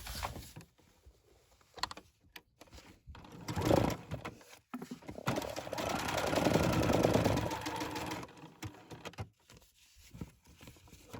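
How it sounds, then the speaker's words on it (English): Sewing machine stitching down a new art journal design, a steady motorized run in the middle of the clip between quieter handling sounds, fairly close. "Let me first sew this in place."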